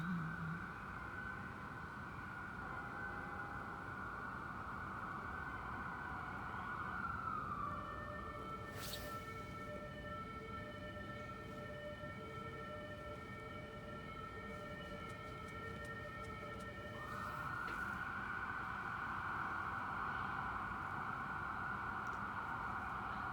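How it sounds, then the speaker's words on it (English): Faint sirens wail in the distance, rising and falling over a steady background hum, with no talking. "Sirens."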